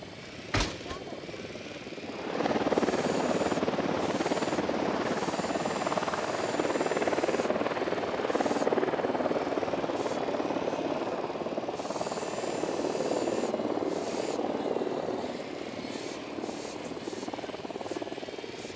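A patrol helicopter in Ghost Recon Wildlands comes in after a sharp click and settles into a steady, loud rotor thrum with a broad engine roar that holds for the rest of the stretch.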